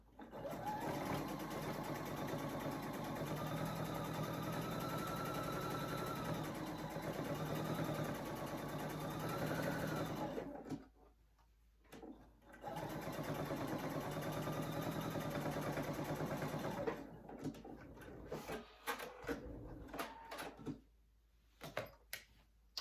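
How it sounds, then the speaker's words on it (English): A sewing machine runs steadily while back stitching a zipper onto a project bag, a fast continuous whirring hum in two long runs, the second ending in short stop-start bursts, alone without talk. "I will back stitch at the beginning over a few of the stitches where I'd left off and come all the way down."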